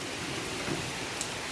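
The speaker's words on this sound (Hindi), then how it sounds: "पहाड़ों में बारिश में भीगने का आनंद ही कुछ और है" Steady rain falling in a mountain setting, a dense continuous hiss of drops on surfaces at moderate level, with no voices.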